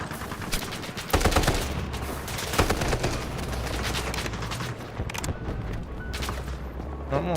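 Sustained gunfire in the Delta Force shooter game: a steady stream of shots and bursts over low rumbling booms, fairly loud and close, with no talking.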